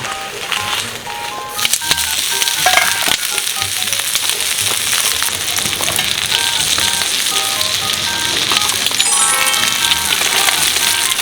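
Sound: grilling pork intestines (gopchang) at a campsite

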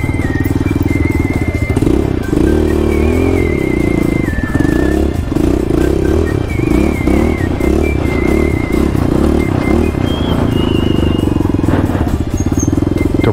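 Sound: Falcon motorcycle revving on an off-road test ride

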